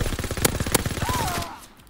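Rapid automatic gunfire from the video game Call of Duty WWII, a dense burst of shots with a couple of louder cracks, followed by a fading ricochet-like whine.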